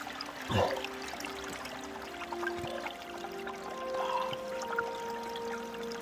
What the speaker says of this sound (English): This little creek here is like an oasis.